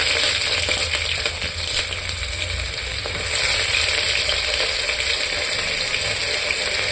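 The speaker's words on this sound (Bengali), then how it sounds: "আমি পেঁয়াজটা ছেড়ে দেবো।" Chopped onion frying in hot oil in a cooking pot, a steady broadband sizzle with faint stirring scrapes, close and continuous with no talk.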